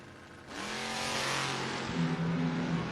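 Chevelle and Mustang drag cars launching side by side at a footbrake drag race, a loud roaring engine surge building quickly and holding at full throttle, heard from the strip side.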